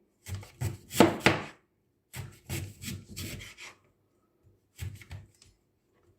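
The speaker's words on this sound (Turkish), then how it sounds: "Şöyle önce şalgamlarımı dilim dilim kesiyorum." Knife slicing turnips into rounds for pickling, heard as close, crisp cutting strokes in three short bursts separated by pauses, with no talking.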